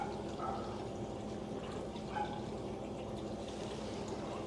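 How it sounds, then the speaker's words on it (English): Garden water feature trickling: a quiet, steady flow of water with small splashes and drips over a faint background, heard from a short distance. "there's my water feature at the bottom there"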